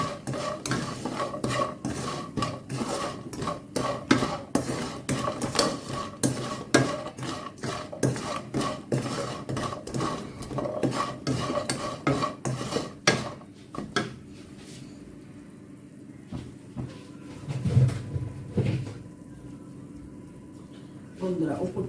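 A spoon stirs and scrapes through a fried semolina snack to coat it in sugar, with rapid rhythmic clinks against a pan that slow to scattered, softer scrapes and a few louder knocks.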